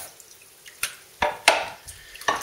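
Water splashing while knife sharpening stones are rinsed in a sink, a few scattered wet splashes and clatters over quiet gaps, close by.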